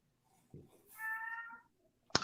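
A cat gives one clear, drawn-out meow at moderate distance, quiet but distinct, between a soft bump before it and a sharp knock after it, with no talk.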